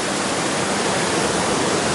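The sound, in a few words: flowing creek water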